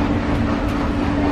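Steady, loud rumble and hum of a park train riding on rails at a Disney theme park, heard from inside an enclosed car with no talking.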